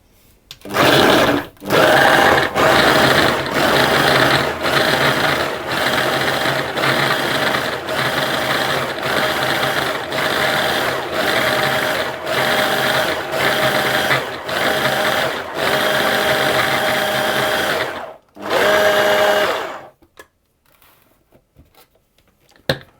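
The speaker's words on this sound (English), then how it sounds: "I'm going to pulse that until the mixture resembles a coarse sand" A food processor pulses a digestive biscuit mixture in a run of loud, close motor bursts. The bursts come in quick regular succession with short gaps, then one last longer burst and silence.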